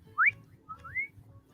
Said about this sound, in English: you can't whistle, can you?